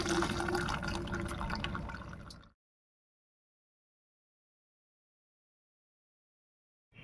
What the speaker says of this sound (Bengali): এবার জলটা ঝারিয়ে নেব।